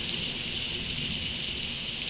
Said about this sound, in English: Huge thunderstorm. And lightning and rain.